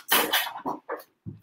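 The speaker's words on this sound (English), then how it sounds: "Sorry if there's background noise, that is my dog." A pit bull barks in the background, a few sharp barks close together, then two or three shorter separate yelps, fairly loud and alone without talk.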